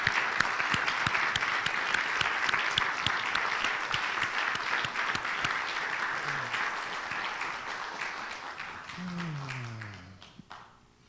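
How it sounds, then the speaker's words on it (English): A large audience applauds steadily at a livestreamed event, the dense clapping holding loud throughout before thinning and fading near the end as a faint tone sweeps in. "would you raise your hand or stand and simply allow us to thank you with applause"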